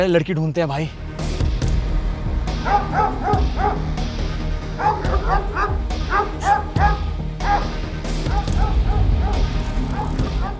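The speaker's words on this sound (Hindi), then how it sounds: "कुत्ता भौंक रहा है" A dog barks and yips repeatedly in short excited bursts with some whimpering, close and loud, while people talk over and between the barks.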